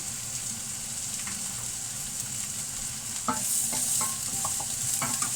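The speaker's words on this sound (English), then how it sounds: "that's the crushed garlic in now" Crushed garlic sizzles steadily in a hot stir-fry pan for a peanut butter chicken and chilli dish, a constant frying hiss with a few scraping stirs that grow louder toward the end.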